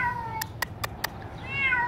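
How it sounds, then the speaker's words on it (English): A cat meows inside an emptied swimming pool, with one drawn-out cry at the start and another near the end. Four short sharp taps fall between the cries. "Come on, kitty."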